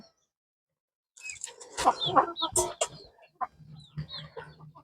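Chickens on a poultry farm cluck and squawk in a lively close burst after a moment of silence, the calls overlapping and then thinning to scattered clucks near the end.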